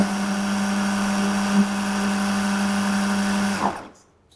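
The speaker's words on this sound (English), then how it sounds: "Depending on what type of food processor you have will depend on how smooth that gets." A food processor whirs steadily through a cheesecake mixture, a loud continuous motor drone with blades churning, running for several seconds before cutting off abruptly and spinning down to silence.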